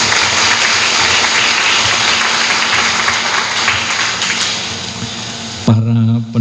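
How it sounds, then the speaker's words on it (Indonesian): Audience applause at a Nuzulul Qur'an commemoration event, a sustained dense burst of many hands clapping that fades near the end as a voice begins speaking. "Tepuk tangan dong"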